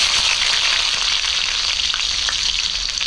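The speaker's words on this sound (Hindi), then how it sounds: "अब इसमें डालें कटा हुआ प्याज" Chopped onion hits hot mustard oil in a kadai and sizzles loudly. The crackling frying stays dense and continuous, close up, with faint stirring scrapes and no talk.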